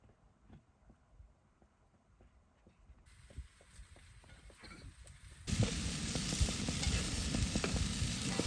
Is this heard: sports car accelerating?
no